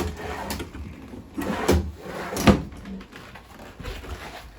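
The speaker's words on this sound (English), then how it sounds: "And you just get the drawers down the side as well." Kitchen drawers in a 2013 Sunset Trail travel trailer slide open and shut, giving a few soft thuds and knocks in a quiet room with no one talking.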